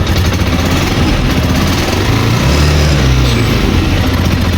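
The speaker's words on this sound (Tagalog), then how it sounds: "Paringan ng makina." A Honda TMX 125 motorcycle engine with a weak primary coil runs loudly and steadily close by, idling with a rough rumbling drone throughout.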